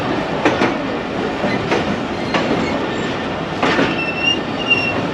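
The Karachi Express pulls slowly into Hyderabad Junction in Sindh, Pakistan: a steady, loud rumble of rolling cars with repeated wheel clicks over rail joints and thin metallic squeals near the end, with no talking.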